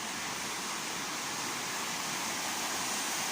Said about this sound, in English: Look at that, another waterfall.